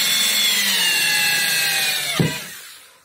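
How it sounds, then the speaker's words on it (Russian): A power drill bores through the drum of an Indesit IWSB51051 washing machine during a bearing repair, a loud, high whirring grind that holds steady for about two seconds, then thumps and winds down. "И так сверлю по всему кругу."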